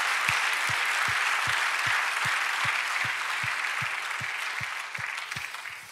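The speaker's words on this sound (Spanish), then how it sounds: "Dale un aplauso al Señor" Church congregation applauding, a dense wash of clapping with a steady rhythmic thump of hand claps or a drum beating in time underneath, sustained and gradually fading.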